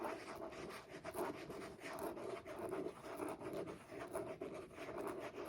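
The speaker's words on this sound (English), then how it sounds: "the way the pen glides on this paper, the scratchiness you hear" Pen nib scratching across Hobonichi planner paper, a continuous close, dry scratchy rasp with rhythmic stroke bursts as letters are written, heard alone.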